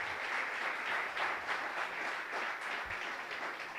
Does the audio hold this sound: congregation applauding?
yes